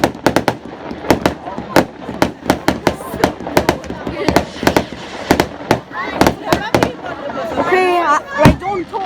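Bonfire Night fireworks crack and bang in rapid irregular bursts, some near and sharp, others further off, with whistling rockets toward the end and people talking in between.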